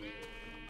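Sheep bleating in Minecraft, a single short synthetic bleat heard faintly over steady game background tones, with no talking.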